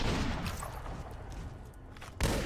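Shotgun fire in Fallout: New Vegas, a loud blast at the start that fades into a rumbling tail, then another sharp shot near the end.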